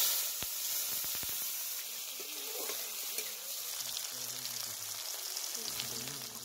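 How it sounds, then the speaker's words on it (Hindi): Onions sizzle in oil left over from frying fish, a steady close hiss with faint stirring and scraping, cooked outdoors in a village kitchen. "मछली को फ्राई करने के बाद जो तेल बचा हुआ है उसमें हम अब प्याज डालेंगे।"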